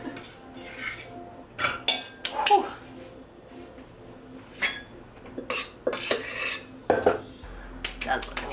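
Chocolate chip cookie dough is mixed by hand in a bowl, a utensil scraping and clinking against the sides in irregular bursts, close and fairly quiet, with brief speech in between.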